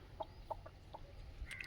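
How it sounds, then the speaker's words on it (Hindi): Sonali chickens on a farm give a few soft, brief clucks spaced irregularly, fairly faint and close, with a slightly louder squawk near the end and no talk. "ये तेरे सोनाली मुर्गे हैं, पूरी सोनाली है"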